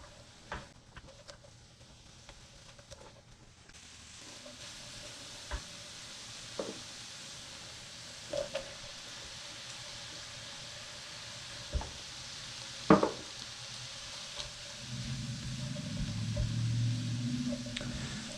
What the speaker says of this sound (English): So now I just want to continue to cook this for several minutes until the mushrooms are starting to brown and really break down.